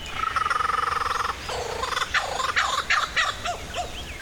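A lyrebird imitates a whipbird: a rapid pulsing trill gives way to a string of whip-like whistled cracks, close and fairly loud, with no voices.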